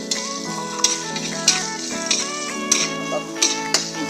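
Grated ginger frying in a pan, a bright continuous sizzle with sharp taps and scrapes of stirring recurring roughly every half second, close and loud with no talking.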